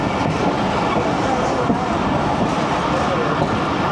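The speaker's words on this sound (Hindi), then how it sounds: "नौशहरा जंक्शन पे ट्रेन रुकेगी" Pakistani 13UP Awam Express passenger train pulling into Nowshera Junction, a steady loud rumble of rolling wagons with faint wheel clatter and brief squeal, continuous throughout.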